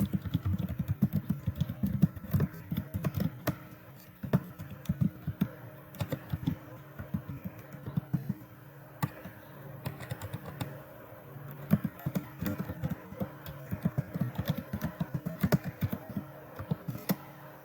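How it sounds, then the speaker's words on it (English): A computer keyboard clatters with continuous, close typing, irregular bursts of keystrokes with short pauses, and no one talking. "By clicking here, I can type in my text."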